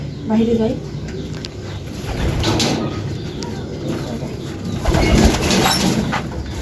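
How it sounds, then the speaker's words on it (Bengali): Pigeons released from their loft coo and flutter outdoors, with brief soft calls early on and bursts of flapping wings amid steady background noise. "আজকে আমরা কবুতরগুলো আগে ছাড়ি নাই, এখন ছাড়বো।"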